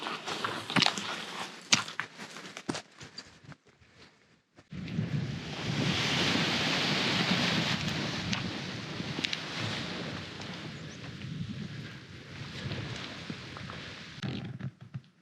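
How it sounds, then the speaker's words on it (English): Wind buffeting a microphone on a mountainside in Snowdonia during paragliding, a sustained rough roar after a few seconds of clicks and rustling handling noise. "Wind's coming from the wrong side."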